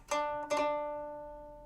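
Two plucked string notes on a guqin with a quick ornamental strum in the simple suo technique, the tones ringing on and slowly fading in a quiet room.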